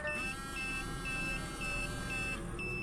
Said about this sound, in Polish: pager dzwoni.